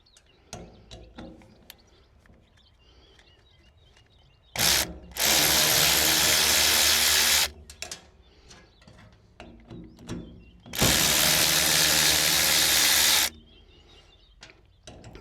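Power ratchet or drill spinning an 8mm socket on bolts of a Manitou telehandler, two loud sustained whirring bursts of a few seconds each, with lighter clicks and tool handling between them.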